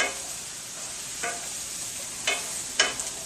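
Mushrooms cook in margarine in a pan with a steady, close sizzle, broken by a few sharp utensil scrapes and clicks.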